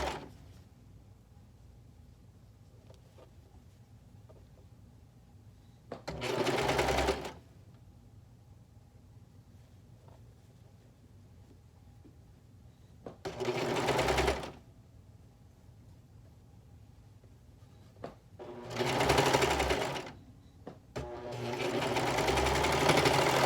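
A sewing machine stitches a romper cuff in three short runs of steady mechanical whirring, each a few seconds long, with quiet pauses between and a longer run starting at the end.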